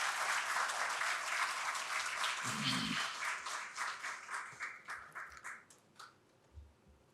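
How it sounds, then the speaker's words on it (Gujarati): An audience at a Gujarati talk on humour gives speaker Shahbuddin Rathod a second round of applause, heard as a thick burst of clapping that breaks into scattered individual claps as it tapers off. "આપણે પુનઃ તાળીઓથી વધાવીએ શાહબુદ્દીન રાઠોડ સાહેબને"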